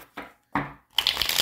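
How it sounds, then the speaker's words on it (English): Tarot cards shuffled by hand, two short riffles followed by a denser crisp flutter of cards, close and fairly quiet with no talking. "Ooh, good shuffle right."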